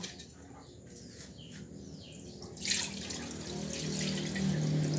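Rice being washed in water, with running-tap and sloshing sounds that grow louder and broader partway through, continuous and close, with no talk.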